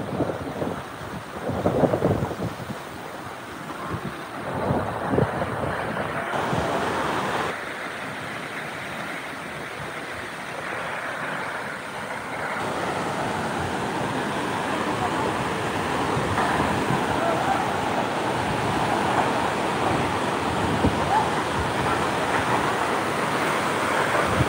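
The Sawatsada waterfall near Chiplun in the Konkan roars and throws heavy spray, a loud continuous rushing wash with low rumbling surges that swell and settle throughout.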